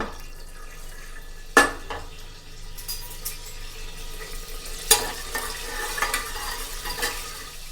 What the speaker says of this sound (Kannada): ಒಂದೆರಡು ಕ್ಯಾಶ್ಯೂಸ್ ಹಾಕೋತಾ ಇದ್ದೀನಿ.